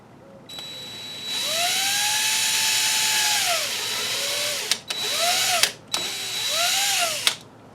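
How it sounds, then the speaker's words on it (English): A power drill boring a 1/16 inch pilot hole into a Harbor Freight hammer handle, a loud high whine that spins up, holds steady for a few seconds, then stops and restarts in two shorter bursts, with no talking. "In order to put the screw in, I'm going to put a 1/16 inch pilot hole in here."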